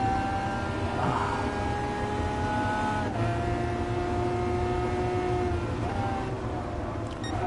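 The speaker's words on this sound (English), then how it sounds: "But the sound of the engine is just..." Lamborghini Aventador V12 engine in the GT Sport racing game, a steady droning engine tone with gliding pitch shifts as revs change, loud and continuous throughout.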